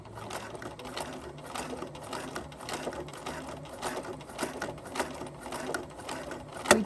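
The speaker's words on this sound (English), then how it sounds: "I'm just going to continue sewing, but I am also going to back stitch to make sure that the seam is nice and strong." A sewing machine stitches and back-stitches the seam of a fabric winter headband, a steady close whirring patter of rapid needle strokes running throughout with a slight sharper burst at the end.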